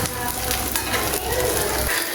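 Flattened rice (chira) stir-frying in about four tablespoons of soybean oil for chira pulao, a steady close sizzle with scraping stir strokes, alone without talk.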